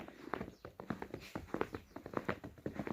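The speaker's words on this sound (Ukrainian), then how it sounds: "Чуєте, як я йду по снігу?" Close, steady footsteps crunch and squeak through wet snow at an even walking pace, fairly quiet, with no talking.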